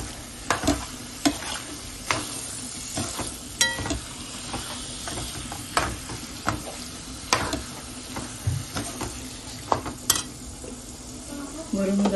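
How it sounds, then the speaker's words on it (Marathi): Chicken liver stir-frying in masala, a constant sizzle broken by frequent sharp scrapes and knocks of a spatula against the pan in an uneven rhythm, close by with no clear talk. "5 ते 10 मिनिटं चांगलं परतायचं"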